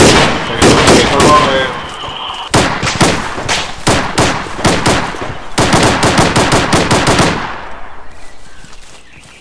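Loud, dense bursts of automatic gunfire from the Arma 3 military shooter game, rapid volleys and sharp shots close by, fading at the end, with a voice speaking faintly beneath.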